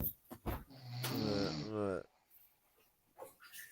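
A man snoring loudly and close, one long rasping inhale followed by breathy snorts and quieter breaths.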